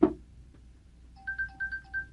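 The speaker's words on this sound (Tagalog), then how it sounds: "May tumatawag sa cellphone ko." A cellphone rings with an incoming call: after a soft knock, a short electronic ringtone melody of repeated bright beeps plays clearly in a quiet room.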